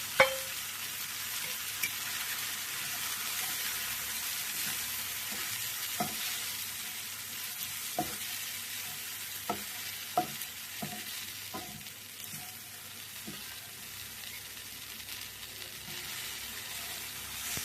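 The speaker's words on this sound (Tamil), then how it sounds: "இந்த மசாலாலாம் அப்படியே இதோடு போட்டு கருகிடணும்" Chicken masala spices such as chili powder roasting in a pan, a continuous soft sizzle with scattered light spatula taps and scrapes at irregular intervals, close and unaccompanied by talk.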